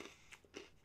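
Someone bites into a crunchy senbei rice cracker coated in soy sauce, giving a few faint, close crackling crunches in quick succession.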